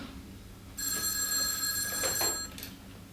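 Old-style telephone bell rings loudly in a quiet room, a continuous metallic trill lasting about two seconds before cutting off, with no voices present.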